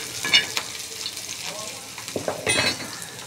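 Chickpea greens roasting in a pan, a close crackling sizzle with a few sharper stirring scrapes and bursts toward the end, heard alone without talk.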